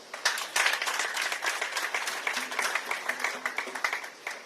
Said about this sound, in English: Another round of applause for this wonderful life.